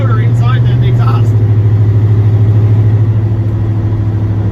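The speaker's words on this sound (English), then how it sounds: "the turbo is actually louder inside than the exhaust." Turbocharged LS V8 in a Dodge Caravan being driven, a loud steady engine drone with a faint high turbo whine heard from inside the cabin, with brief talk at the start.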